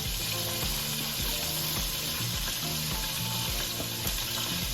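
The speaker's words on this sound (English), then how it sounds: "Now I'm adding in our rice" Rice seasoned with garlic powder, black pepper and salt goes into a pan that holds turkey wings, giving a continuous frying sizzle with soft rhythmic pulsing and no talk.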